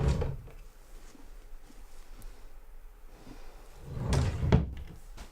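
Wooden drawers slide open and shut, a soft scrape followed by a pair of louder thumps near the end, in a quiet room with no talking.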